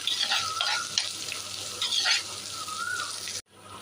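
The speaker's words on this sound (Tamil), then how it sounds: "பாருங்கள் நல்லா வெங்காயம் வதங்குது" Onion and peeled garlic cloves sauté in a pan for a dry fish curry, a low sizzle under stirring and spatula scrapes, with a brief tonal squeak, ending abruptly in near silence.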